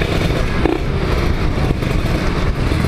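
A Ninja 150 motorcycle engine revs and drones steadily up close, a loud continuous rumble with a brief rising whine.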